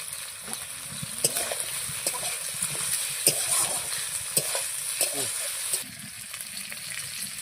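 Capsicum (bell pepper) sizzles in a hot pan, a steady frying hiss broken by a few sharp scrapes of stirring, with faint voices now and then.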